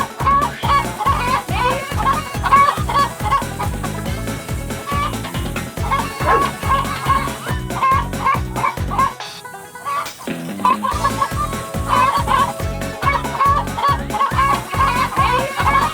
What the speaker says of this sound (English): you gotta learn how to catch a chicken.